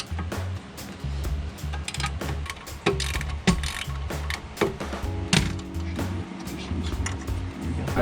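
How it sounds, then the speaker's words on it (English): Ratchet clicks at close range in short repeated bursts while bolts are taken out of the bottom of an old coilover on a BMW E36. A low mechanical hum and occasional metallic clinks run underneath. "Just take these 3 bolts out from the bottom,"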